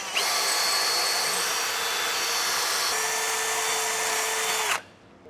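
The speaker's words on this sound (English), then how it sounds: "I'll start with a smaller drill bit and I'll go up to a bigger one" A power drill boring a hole in a metal bracket runs continuously at high speed for about five seconds, a loud steady whine that shifts pitch slightly midway before stopping abruptly.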